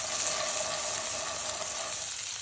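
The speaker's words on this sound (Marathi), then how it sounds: "कढईमध्ये आपण हरभरे घालून देऊ, सगळीकडे छान परतून घेऊ" Fresh green chickpeas sauté in a hot kadai over a high flame, giving a dense, even sizzle that hisses continuously and close-up, then cuts off abruptly at the very end.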